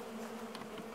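Bees buzz steadily around a feeder bucket, a continuous close hum with a few brief louder passes over one second, no talking.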